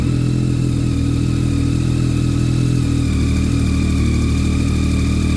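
A 2022 Triumph Tracer 9 GT motorcycle engine idles loudly and close by, a steady dense rumble with a slight shift in pitch partway through, no voices over it.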